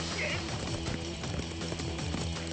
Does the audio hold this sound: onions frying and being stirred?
no